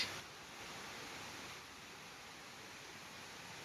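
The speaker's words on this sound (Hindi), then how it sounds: "इतनी तेज बारिश।" Steady, dense hiss of heavy monsoon rain pouring down in Noida, India, with flooded streets, a constant wash of noise with no voices.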